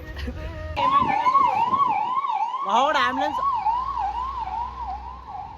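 A wailing ambulance siren sweeps up and down continuously and fairly close, briefly overlapped by a short spoken word.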